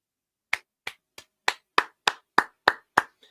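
Ten sharp, even hand claps in a quick steady rhythm, loud and close against silence, the last one softer.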